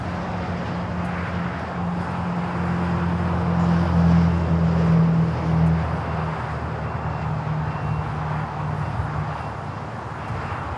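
An Airbus A350-1000 at LAX fills the air with a continuous broad jet roar and a low droning hum that swells toward the middle and eases slightly afterward, with no talking.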